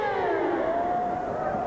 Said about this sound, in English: And there's the full-time siren at Athletic Park.